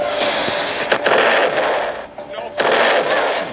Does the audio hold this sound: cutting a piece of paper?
no